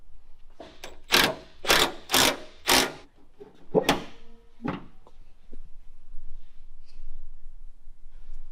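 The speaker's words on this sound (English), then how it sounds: "Open the hood." Hood latch and panel of a custom 4x4 off-road bus being worked open: a run of five loud metallic clanks and rattles, then a few quieter knocks fading into a still workshop.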